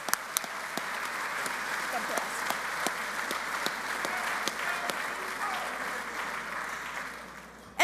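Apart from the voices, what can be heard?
audience applause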